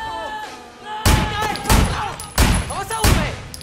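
Gunfire rings out in the video game Sleeping Dogs Definitive Edition in four loud, booming bursts, spaced under a second apart, after a short stretch of voice and game sound.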